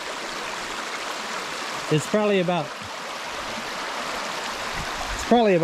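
A wide creek, roughly fifteen to twenty feet across, flows with a steady broadband rush throughout, while someone speaks briefly over the water near the middle and end.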